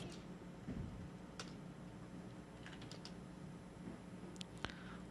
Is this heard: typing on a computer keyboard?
yes